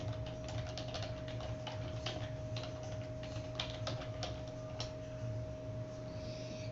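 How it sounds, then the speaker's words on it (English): Steady, quiet clicking of a computer keyboard as someone types a search query, keystrokes ticking in an uneven rhythm over a constant electrical hum. "Then you type in mini dirt bike tracks."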